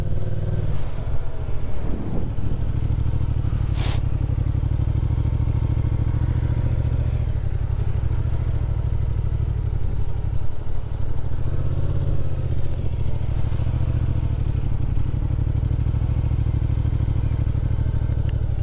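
A motorcycle rides repeated figure-eight laps, its engine humming steadily at a constant low speed with faint clatter and occasional thumps, close and continuous without talk.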